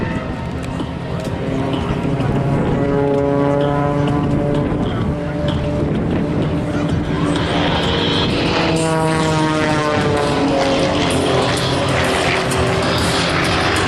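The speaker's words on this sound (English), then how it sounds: "Now the 3 aircraft will pull up for what we call a stall turn." Three aerobatic propeller aircraft at an air show pull up into a stall turn, a loud sustained engine drone with rising and falling pitch as the planes climb and pass, with a commentator talking over it.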